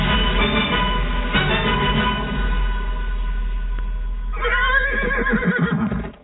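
Horse whinnying in a radio advert, a loud drawn-out neigh that fills the whole clip and ends in a second shaky whinny near the close, heard clearly with no talk over it.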